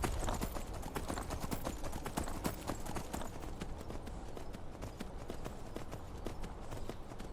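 Horse hooves clip-clopping in a steady, continuous gallop rhythm while riding through Skyrim, loud and close over a constant wash of background game sound.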